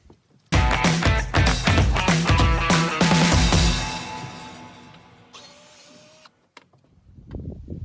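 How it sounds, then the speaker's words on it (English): A power drill or driver whines and chatters in rapid bursts, backing rusty screw fasteners out of the deck boards of a Floe VersaMax snowmobile trailer; loud and close, then trailing off to a softer whir and a few clicks. "we'll start taking out fasteners, then we can slide these boards out, hopefully"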